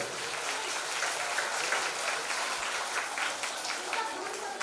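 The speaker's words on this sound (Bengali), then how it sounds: "সবাই এবার একসঙ্গে জোরে হাততালি হবে।" Audience at a yoga training centre's foundation day celebration applauding together, a dense, steady wash of many hands clapping throughout, fairly loud and continuous.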